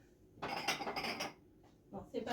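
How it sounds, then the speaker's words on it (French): Dishes clatter during washing up in a home kitchen, with pots, cutlery and glass clinking in two bursts separated by a brief quiet pause, fairly close and moderately loud. "je vais finir un peu ma vaisselle, histoire de dire que c'est rangé"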